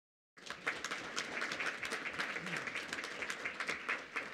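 Applause at a school board meeting bursts in after a brief silence and holds steady, a crowd clapping together at moderate volume.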